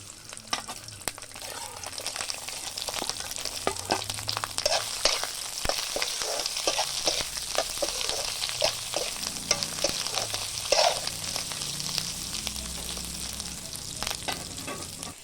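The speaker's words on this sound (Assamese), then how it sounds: "এইখিনি এতিয়া আমি ভালদৰে তেলত ফ্ৰাই কৰি ল'ম।" Steady crackling sizzle of food frying in hot oil, with occasional stirring scrapes, continuous and close.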